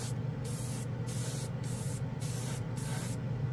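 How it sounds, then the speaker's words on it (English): A Testors Aztek airbrush sprays in short hissing bursts, about six pulses in quick succession with brief gaps between, close and soft over a low background hum. "But look how nice it sprays."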